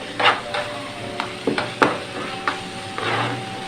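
A spoon stirs two tablespoons of pickle into a pot of chana dal, giving a few soft scraping knocks and wet clinks against the pan over a low sizzle, close and fairly quiet.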